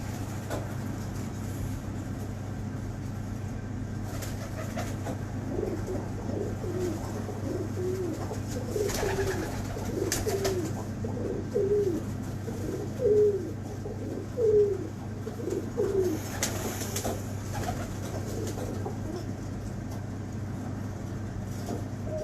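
Pigeons coo in a steady series of soft, throaty calls from about 8 to 17 seconds, close by over a constant low hum of nearby traffic.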